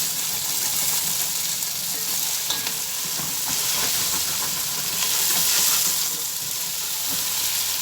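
Onion frying in hot oil until golden, a dense, continuous sizzle with crackling and stirring noises, fairly close and steady throughout.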